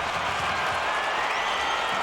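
Stadium crowd at a Real Salt Lake versus Toronto soccer match giving a standing ovation, steady dense applause and cheering filling the whole moment at a constant level.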